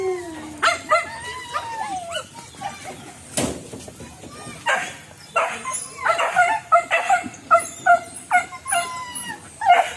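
Several hunting dogs bark and yip excitedly during a wild boar hunt in the countryside, the barks coming in irregular bursts at varying distances, some whimpering, with people talking now and then.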